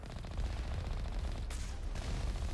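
Enemy gunfire in Mass Effect on Insanity difficulty, a steady rattle of rapid shots under constant game noise, with a brighter burst of impact in the middle.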